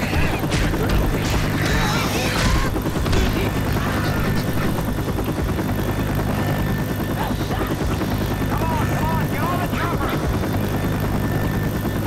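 Helicopter in the Left 4 Dead 2 zombie game, a loud, steady rotor thrum filling the whole stretch, with scattered game impacts and crashes over it.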